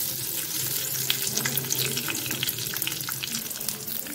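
Dried red chillies and curry leaves sizzle in hot oil in a pan, giving a continuous loud crackling hiss with fine popping, close and steady throughout.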